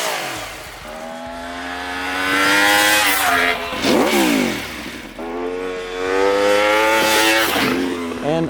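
An Aprilia Tuono 1100 RR V4 super naked motorcycle revs hard through two long pulls, its engine note climbing in pitch with each run and dropping sharply in between. It sounds loud and aggressive as it passes by at moderate distance.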